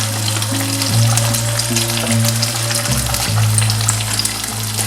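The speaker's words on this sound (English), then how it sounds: "See, the rice is still cooking, guys." Traditional coconut rice simmers in a pot, giving a steady, close bubbling and sizzling wash over a low, constant hum, with no voices.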